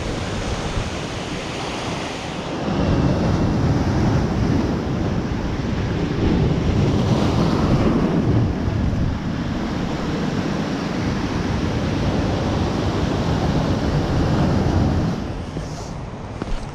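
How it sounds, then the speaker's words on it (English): Relentless ocean swell pounds a coastal fishing spot, a loud continuous roar of breaking surf with wind buffeting the mic, swelling stronger from the third second and easing slightly near the end, with no voices. "Swell is just relentless. It's non-stop. There's no breaks between it at all."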